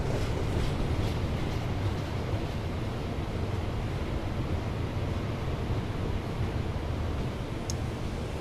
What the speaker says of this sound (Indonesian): Kereta api menoreh ini adalah kereta full kelas ekonomi dan menggunakan armada K3 Kemenhub